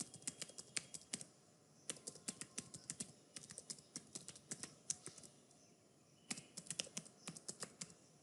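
Fingers type an email address on a computer keyboard in quick, irregular bursts of close, crisp key clicks, pausing briefly midway, with no voices.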